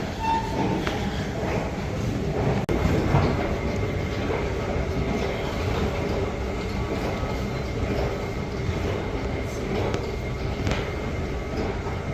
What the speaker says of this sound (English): Please hold on while the train is moving.